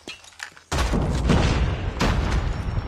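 A grenade goes off in the mobile shooter game Call of Duty: Mobile. One sudden loud boom hits after a quieter start and leaves a roaring, rumbling wash of gunfire and noise that lasts to the end.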